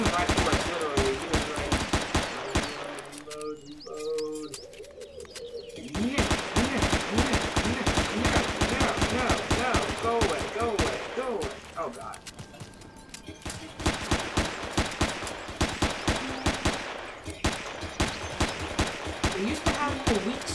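Minigun fire in the video game Empyrion comes as long, dense bursts of rapid gunfire with short pauses between them, loud and close, while people talk over it.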